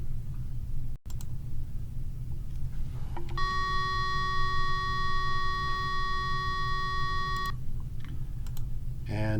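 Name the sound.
fire alarm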